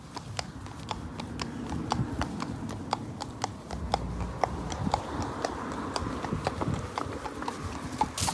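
Horse hooves clip-clop at a steady walking rhythm during an outdoor hack ride, sharp regular strikes close by over low wind and ambient rumble.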